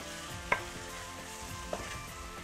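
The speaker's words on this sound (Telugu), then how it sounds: "సో ఇప్పుడు దీన్ని చక్కగా కలుపుకొని" Tomato pieces are stirred in a pan on the stove, with a soft steady sizzle behind two sharp utensil clinks against the pan, one early and one later.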